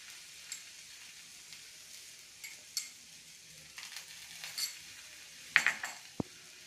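Green chillies, coriander leaves and curry leaves frying in oil in a pan, a quiet steady sizzle with scattered stirring clinks and a sharp knock near the end, no voices.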